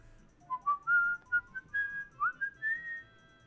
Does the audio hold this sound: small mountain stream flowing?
no